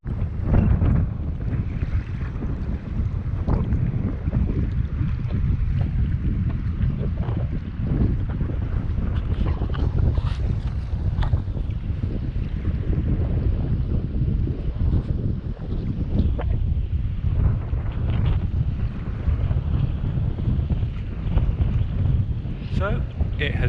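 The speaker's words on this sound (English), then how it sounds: "A bit windy, a bit rainy, but very nice." Strong, steady wind roars and buffets a microphone out at sea while a kayak drifts near the Summer Isles, a constant low rumble with gusty texture filling the whole stretch, no voices heard.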